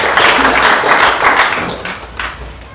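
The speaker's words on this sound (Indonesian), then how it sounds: "Tepuk tangan dulu Mas Sigit Budiarto." Audience applause at a PB Djarum 2024 badminton audition Q&A, a moderate burst of clapping that fades over a few seconds.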